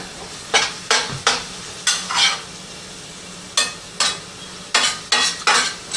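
Beef filling for flautas simmers in a pan as its liquid cooks off, with a spoon scraping and stirring in repeated short bursts over a low steady bubble, close by and moderately loud.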